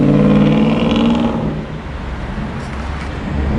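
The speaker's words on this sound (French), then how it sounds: "J'ai entendu un gros truc remonter du tunnel. Ah, la 720S." A McLaren 720S supercar revs loudly while climbing out of a tunnel in Monaco, a strong engine roar that eases off slightly and then builds again, with no talking.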